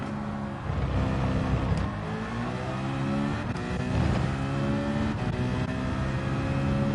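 Subaru WRX racing at top speed in a driving video game, a continuous engine drone with shifting rev pitch and brief gear-change blips, loud and steady with no talk.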